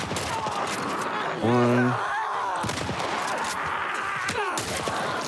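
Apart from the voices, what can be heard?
rifle gunfire in The Last of Us video game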